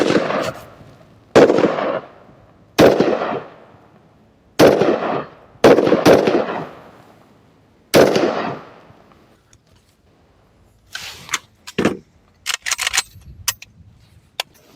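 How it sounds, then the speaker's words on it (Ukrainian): Four sharp shots from a WBP Midi Jack AK-pattern rifle in 5.45 calibre ring out one after another at uneven intervals, each with a short echoing tail, followed by faint clicks and handling noises. "А тепер чотири постріла із ВБП"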